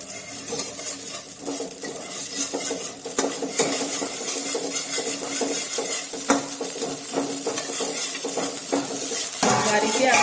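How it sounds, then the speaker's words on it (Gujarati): Amaranth (rajgira) grains pop in a pan over a gas flame as they are stirred, giving a busy crackle of tiny bursts mixed with scraping and clinks from the utensil, close and continuous. "તમે જોઈ શકો છો આપણી ધાણી એકદમ સરસ રીતે ફૂટવા લાગી છે"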